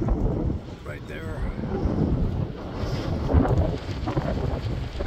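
Strong wind buffets and roars across the microphone in steady gusts at a tent campsite on the Pacific Crest Trail, loud and close, with faint voices underneath.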